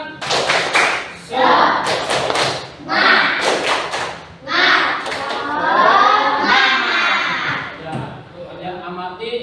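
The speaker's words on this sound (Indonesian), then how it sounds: "Tepuk tangan dengan tepuk semangat ya." A school class does a rhythmic spirit clap, tepuk semangat, with sharp patterned bursts of hands clapping together before voices chant and talk loudly over the remaining beats.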